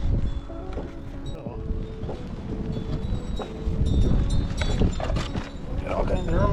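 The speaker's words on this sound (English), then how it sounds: "That's how windy it is." Gusty wind buffeting a microphone outdoors, rumbling in low bursts that rise and fall and strengthen toward the end, with a person talking intermittently.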